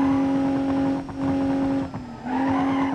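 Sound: BMW M4 car driving in BeamNG.Drive video game

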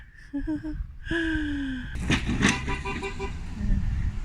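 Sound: car driving past

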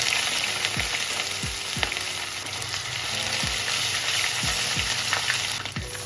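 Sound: mustard oil with cumin and ginger sizzling in a pan

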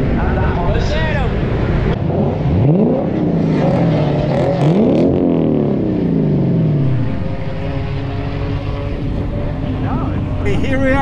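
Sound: Lexus cars revving on parade lap at Sebring raceway

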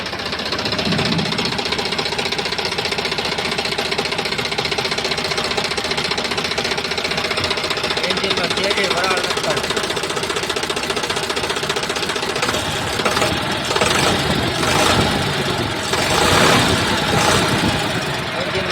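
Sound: three-cylinder tractor engine running

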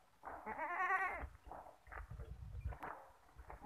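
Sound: black Beetal breeder goat bleating

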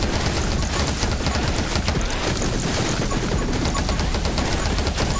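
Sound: projectiles shooting in video game 20 Minutes Till Dawn

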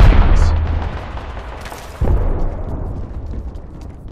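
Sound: gunfire in the video game Apex Legends

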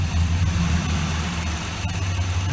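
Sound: Ford car engine stumbling during EGR vacuum test

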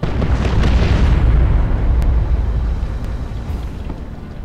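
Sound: incoming artillery fire explosions in Dawn of War II video game

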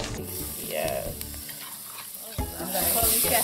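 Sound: stirring Bahamian stew fish in a pot

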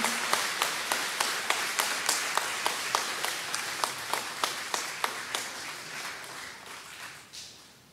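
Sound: congregation applauding the newly baptized

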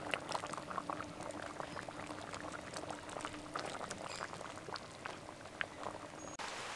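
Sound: elephant foot yam and potato boiling

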